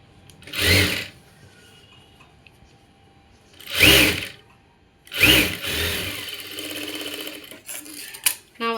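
A sewing machine stitching the sleeve of an umbrella frock runs in three short, loud, close bursts separated by quiet pauses, with soft handling noise after the last run.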